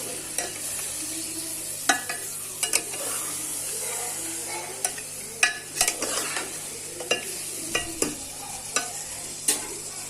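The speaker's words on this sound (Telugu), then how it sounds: "ముందుగా కలిపి పెట్టుకున్న చికెన్ యాడ్ చేస్తున్నా" Chicken and potato pieces stirred in a hot frying pot for Telugu chicken biryani, with a constant sizzle and repeated sharp scrapes and clanks of the spoon against the pot, no voices.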